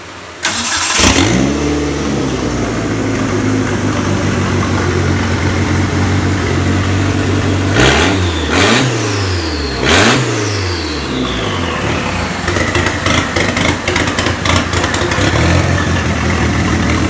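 A Mitsubishi Eclipse with a freshly installed 4G63T engine, downpipe disconnected, idles loudly and raspily nearby, with several sharp revs climbing and falling back between stretches of rough, rumbling idle.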